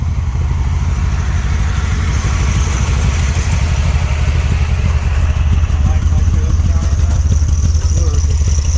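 Engine of a 1970s Dodge street machine van with an old Holley carburetor idling, a steady low rumble running throughout at close range, with people talking over it.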